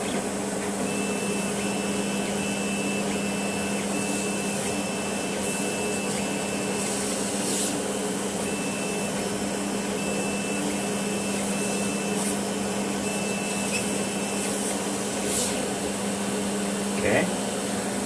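A Neje 40640 dual diode laser cutter works on thin aluminium foil, giving a steady mechanical hum with a repeating series of short high electronic tones as it moves, plus a few faint clicks.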